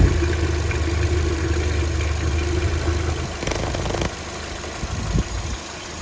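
Car engine idling steadily while the vehicle sits on a lift at a used-car market, a constant low hum that drops slightly partway through with a few brief clunks near the end.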